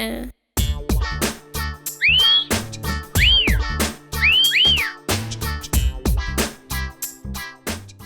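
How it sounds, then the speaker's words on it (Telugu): Three rising-and-falling whistled phrases ring out clearly over a loud, thumping music beat. "ఏంట్రా పొద్దునే విజిల్ సౌండ్స్ ఇబ్బంది పెడుతున్నావు?"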